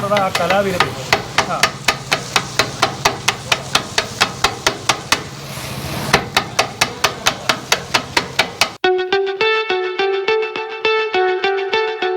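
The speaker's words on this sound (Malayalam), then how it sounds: "നമുക്കിത് കൊത്താം" Rapid, rhythmic metallic clanging of spatulas chopping porotta on a hot griddle for kothu porotta, loud and close, with regular sharp strikes that shift to a brighter ringing pattern near the end, over a faint sizzle.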